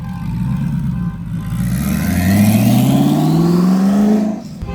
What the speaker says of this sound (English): Did you hear the turbo spooling on that GT? Twin turbo Ford GT.